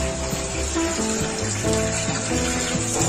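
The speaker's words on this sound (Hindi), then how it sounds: "अब इसमें हम पानी डालेंगे इतना जिसमें हमारे गोश्त अच्छे से गल जाए।" Water poured in quantity into a cooking pot of beef for yakhni pulao, a steady rushing splash with a faint rising tone as the pot fills, continuous and close throughout.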